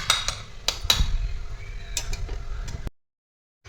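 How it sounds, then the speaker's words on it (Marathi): A lid goes onto a pot of freshly fried gulab jamun soaking in syrup, making several close metallic clinks and taps, then a final knock before the sound cuts to silence. "गुलाबजामुन आता ह्यावर झाकून मुरत ठेवायचं"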